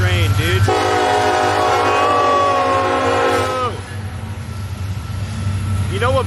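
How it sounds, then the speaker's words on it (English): A train rolls through a small town, its horn blaring in long loud blasts up close, then wagon rumble continues as the horn cuts off; a voice briefly speaks. "Oh, the train is here."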